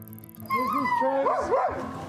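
Sled dogs at a wilderness kennel in northeast Minnesota bark and yip in a rising, whining chorus, several close voices overlapping in quick bursts with no talk.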